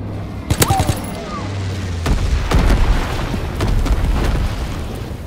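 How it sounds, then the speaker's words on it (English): Incendiary bombs from an enemy bomber explode in Call of Duty WWII multiplayer, a sharp burst of booms followed by a sustained rumbling, crackling wash of fire and distant detonations that lingers loudly for several seconds. "Incendiary bombs incoming."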